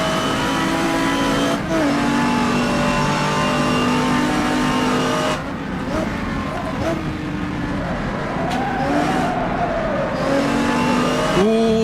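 Historic GT race cars, among them a Porsche and a Bizzarini, roar around the Brands Hatch circuit with loud revving and shifting engine notes. A commentator talks excitedly over the cars throughout.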